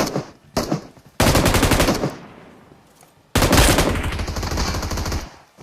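Automatic gunfire in the mobile shooter game BGMI, several loud rapid bursts of machine-gun fire separated by short pauses, with one long sustained volley near the end.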